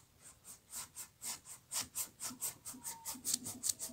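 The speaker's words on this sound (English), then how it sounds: "I'm scraping the canvas now" Oil paint scraped across a canvas with the tip of a brush, a steady series of about fifteen short, evenly spaced rubbing strokes, close and fairly quiet, with no talk.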